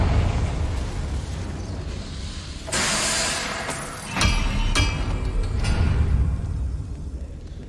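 Confringo fire spell cast in the Hogwarts Legacy video game, bursting as a loud explosive whoosh with a sharp crack, followed by a second blast and smaller pops against a rumbling game background.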